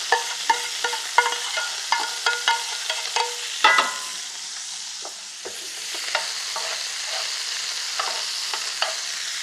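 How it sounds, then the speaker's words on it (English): Sofrito sizzling in a paella pan as it is stirred, with sharp scraping and clacking strokes in an irregular rhythm over a soft steady frying hiss, close up with no talk. "All right, I'm going to add the sofrito to this pan."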